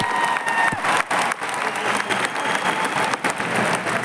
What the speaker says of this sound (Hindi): अरे ताली तो बजाओ